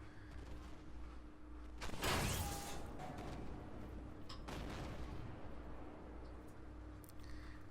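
A Leopard 2AV tank's main cannon fires in the Armored Warfare game, a loud blast around the two-second mark with a rushing tail, then a second, softer report later over a steady engine drone.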